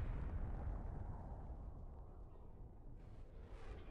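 A rumbling bombardment explosion in Civilization 4, a heavy low boom that fills the clip and slowly decays into a lingering roar, loud and close with no voices.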